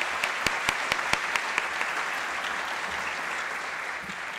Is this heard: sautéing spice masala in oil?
no